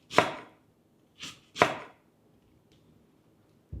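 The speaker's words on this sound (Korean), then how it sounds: "연근은 납작납작 연근 조림할 때처럼 잘라주시면 되고요." A knife cutting lotus root into flat slices on a board, three sharp close chops with uneven gaps in a quiet room, then the start of a fourth.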